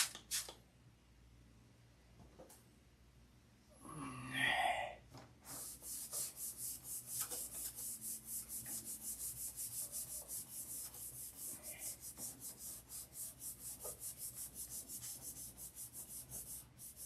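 Sandpaper of 3000 grit rubs by hand in fast, even back-and-forth strokes, a soft, steady, rhythmic scratching heard close up with no talk.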